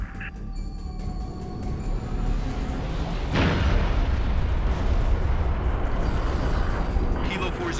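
Artillery final protective fire barrage in Halo Reach, with a sharp blast and then a dense, sustained rumble of explosions that stays loud and continuous throughout.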